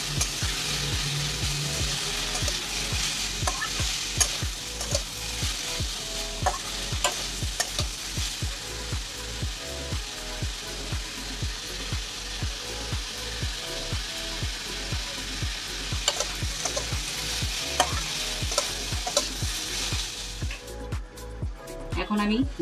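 Red potatoes fry and sizzle in a pan at home while a utensil stirs them in a steady run of close scraping strokes; talking is heard over the cooking.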